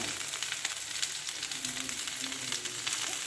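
Vegetables fry in oil tempered with cumin, bay leaf and black mustard seeds, a dense, even sizzle with faint crackles, close and steady, with no voices.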